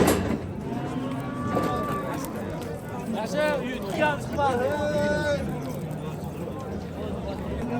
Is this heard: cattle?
yes